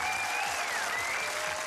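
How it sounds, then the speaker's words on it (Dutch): Studio audience on a Dutch TV cooking show applauds steadily, a dense, even wash of clapping with a faint sliding tone running underneath. "Uw applaus voor Philippe Mars."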